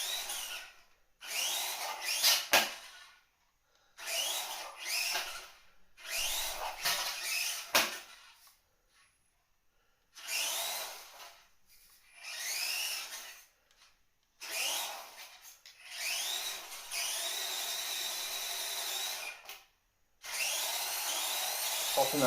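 An FMS Max Smasher 1/24 scale RC crawler runs in high speed, its small electric motor whining in repeated bursts with rising and falling pitch and short pauses between runs, close by, with some talk around it.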